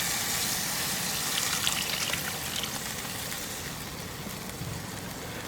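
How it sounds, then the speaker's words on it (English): A litre of beef stock poured into a beef and red wine stew pot cooking over an open fire outdoors, a steady close splashing pour with faint bubbling, no voices. "So what we want to do is add probably another litre of beef stock."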